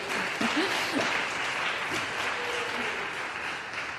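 A church congregation applauds the buildings committee during a Sunday service, with an even, sustained round of many hands clapping in a large room that holds steady for several seconds.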